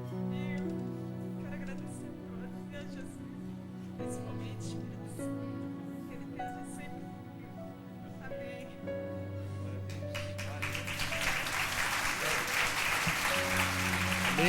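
Sustained organ or keyboard chords play in a church service, and the congregation's applause swells up loudly over the music during the final few seconds.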